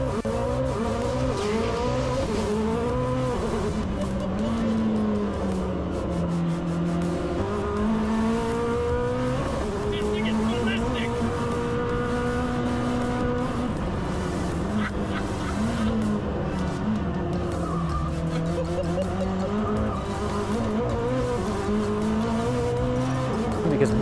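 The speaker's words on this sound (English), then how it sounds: "At the Goodwood Festival of Speed, we did a Jesko attack run up the hill climb with Marcus" Koenigsegg Jesko hypercar on a hard hill climb run at the Goodwood Festival of Speed, its engine note rising and falling steadily through gear changes for the whole stretch, loud and close with some tyre squeal.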